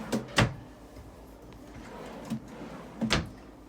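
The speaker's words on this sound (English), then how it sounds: "And in addition, there are 3 large drawers below." Large drawers in a 2014 Tiffin Allegro Bus 45LP motorhome sliding open and shut, with a pair of quick bumps at the start, a soft knock midway and another double thud near the end, close and fairly quiet.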